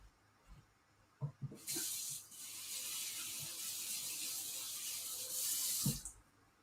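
Fresh mint is rinsed under a running kitchen tap, a steady close hiss of water lasting several seconds, preceded by a few small clatters and ending abruptly as the tap shuts off.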